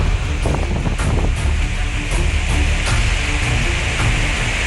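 Strong cyclone winds of Cyclone Amphan roar steadily as a loud, continuous rushing with gusty surges, close to the microphone, with no voices.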